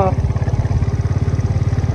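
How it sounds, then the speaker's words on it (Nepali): Motorcycle engine running on a ride in Arunachal Pradesh, a close, loud, fast regular thumping pulse, with a voice briefly at the start. "हाम्रो बाइक त हेलिकप्टर जस्तै कुदिरहेको छ"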